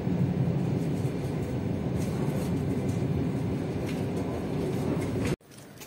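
Riding inside a suburban electric commuter train, steady rumbling roar with rhythmic rail clatter, fairly loud and constant, ending abruptly near the end.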